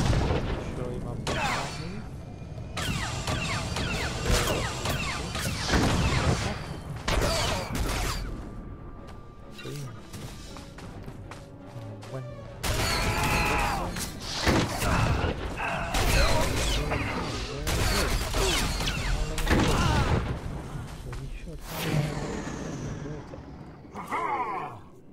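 Pulse cannon fire from a Commando trooper in SWTOR sends out dense, continuous blasts and mechanical bursts that crowd nearly the whole stretch, with combat grunts mixed in and only short lulls between the barrages.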